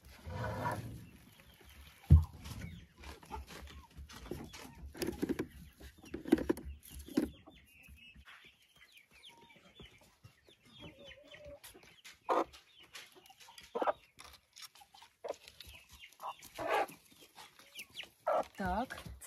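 Chickens cluck in a coop in short, scattered bursts, some loud and close and others softer, with quiet gaps between calls.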